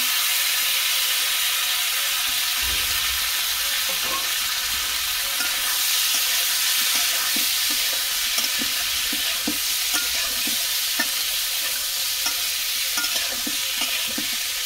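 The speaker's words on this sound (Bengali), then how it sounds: "এখন সিদ্ধ করা আলু দিয়ে দেবো" Boiled potatoes sizzle and fry in a pan of hot oil, with a steady close hiss broken by scraping stirring strokes throughout, no voices heard.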